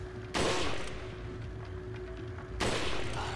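Two loud rifle shots ring out in the video game Resident Evil 4, each a sharp blast with a decaying tail, spaced about two seconds apart over a low hum of game ambience.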